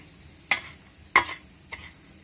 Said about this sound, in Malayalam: ഒന്ന് മിക്സ് ചെയ്ത് വയ്ക്കാം.